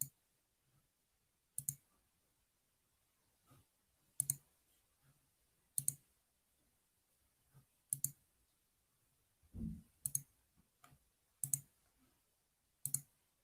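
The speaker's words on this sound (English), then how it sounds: "I'm clicking back and forth." Computer mouse clicking back and forth, sharp isolated clicks spaced roughly every one to two seconds in a quiet room, with a soft thump midway through.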